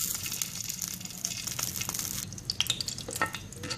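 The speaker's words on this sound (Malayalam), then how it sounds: "ഇതിലേക്ക് നമുക്ക് 1 ടേബിൾ സ്പൂൺ നെയ്യ് ചേർത്ത് കൊടുക്കാം." Ghee heating in a hot pan sizzles and fries steadily and fairly loudly, with a bright, continuous hiss and a few bubbling pops toward the end, and no talking.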